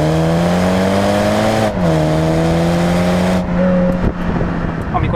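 A sports coupe with a BMW two-litre engine drives along with a loud, steady engine drone that rises and falls slightly in pitch, easing off near the end, heard close from inside the car.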